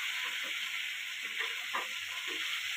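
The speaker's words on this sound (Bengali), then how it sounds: "মাছটা ভেজে নিচ্ছি আমি, একটু হালকাই ভাজবো।" Rupchanda (pomfret) fish frying lightly in a pan, a soft, steady sizzling hiss with small crackles, faint and close with no voices.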